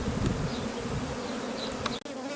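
Honeybees in a crowded hive preparing to swarm give off a steady, dense buzzing hum that fills the space close by, with no voices over it.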